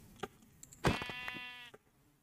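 A sheep in the video game Minecraft gives one short bleat, fairly quiet and clear, preceded and followed by faint soft clicks.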